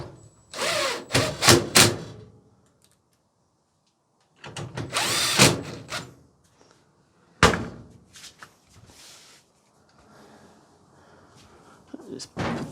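A cordless drill driver fastening parts on a Fisher and Paykel clothes dryer door, with several short sharp whirring bursts separated by pauses, a loud thunk partway through, and someone speaking in between.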